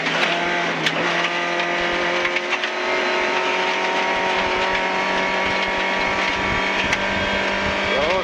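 A VW Golf Mk1 rally car's engine roars at full throttle from inside the cabin, a steady, loud, continuous drone with rising harmonics as it revs and pulls through the gears.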